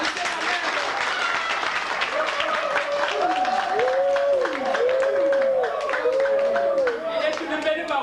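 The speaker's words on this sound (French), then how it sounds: "Applaudissez la main." Crowd applause at a 1992 legislative campaign rally, sustained dense clapping throughout, with cheering voices and whistles rising and falling over it.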